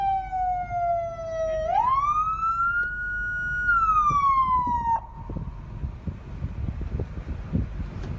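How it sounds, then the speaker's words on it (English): Police car siren wailing loudly and close, a single rising and falling sweep that cuts off abruptly, leaving wind and faint rustling noise. "he takes his time to turn off the siren"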